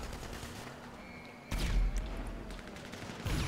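Sustained volleys of gunfire in the video game GTA V Online, with a sharp onset midway into loud, dense bursts of shots that continue to the end, heard fairly close with no talking.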